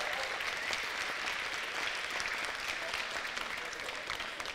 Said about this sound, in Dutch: Geef ze maar alvast even een applaus.